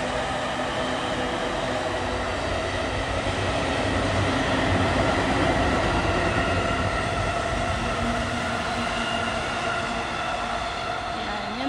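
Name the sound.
train arriving, from Tokyo to Odawara, Japan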